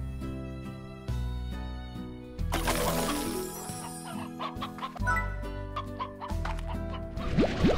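Rooster clucking in the video game Slime Rancher, several distinct clucks and squawks in short bursts among game effects, fairly loud and clear, with no talking.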